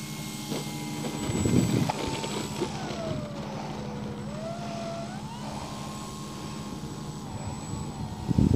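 A de Havilland Tiger Moth biplane's engine and propeller drone steadily at a distance, with its pitch rising and falling as the aircraft moves, over a low rumbling background.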